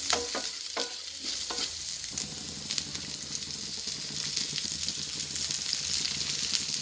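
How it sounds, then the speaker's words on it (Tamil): Onions fry in oil in a pan for ragi noodle upma and are stirred: a steady close sizzle with scraping strokes from a spatula, and a few distinct stirring clacks at the start, with no talking. "வெங்காயம் எல்லாம் வதங்கிச்சு"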